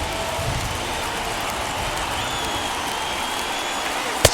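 A stadium crowd in MLB The Show 21, at an Athletics versus Yankees game in a ballpark, roars in a steady wash of cheering that holds loud and even throughout.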